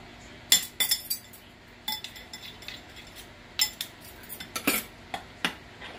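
Cutlery clinking and scraping against a dish while mixing barbecue sauce for a copycat Chick-fil-A chicken sandwich, a series of close, irregular metallic taps and clinks with brief pauses between strokes.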